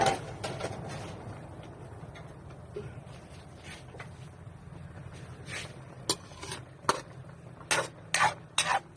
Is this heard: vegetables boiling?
yes